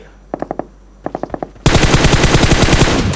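M416 rifle fire in PUBG Mobile, loud and close: two short bursts of rapid shots with a pause between them, then a sustained full-auto stream.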